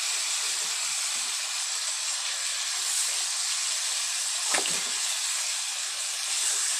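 Chicken browning in a pan for a yellow wine chicken dish, giving a steady, moderate hiss of frying with one brief louder crackle partway through and no voices.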